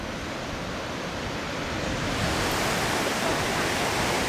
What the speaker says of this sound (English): A little more waves here than there were at Puerto Vallarta.